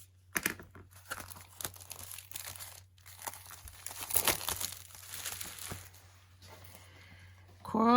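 Sheets of 6x6 double-sided pattern paper from a Tonic Studios craft kit being handled: quiet, close crinkling and rustling with soft taps, fading out near the end.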